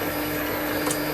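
Printer running in a small lathe workshop, a steady close mechanical hum with a constant whine, no talking over it.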